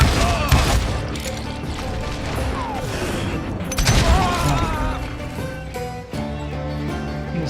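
Gunfire in the Western shooter Call of Juarez: Gunslinger, a headshot amid a busy, loud mix of shots, impacts and clatter with music or effects layered densely over the whole stretch.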